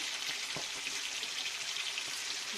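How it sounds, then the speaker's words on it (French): Banana pieces fry in a pan with a constant bright, crackling sizzle, close and even throughout with faint pops. "la banane, je vais la mettre ici dans la poêle"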